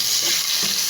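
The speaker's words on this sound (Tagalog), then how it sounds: "sinigisa na natin yung garlic sa mantika" Garlic sizzling in hot cooking oil in a pan, a steady close, loud frying hiss with faint stirring.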